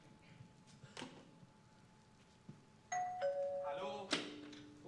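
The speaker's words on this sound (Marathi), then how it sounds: "किती वेळा बेल वाजवत आहे?" Doorbell ringing in a Marathi stage play, a bright electronic chime sounding twice, the second ring louder and closer, over faint room noise and stage movement.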